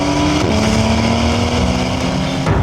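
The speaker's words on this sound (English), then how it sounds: "The combination of the powerful motor and the sports exhaust system gives the car its own characteristic" A 2017 Porsche 911 GTS with a sports exhaust runs loud and near, a steady engine drone with a brief pitch shift, heard alone without speech.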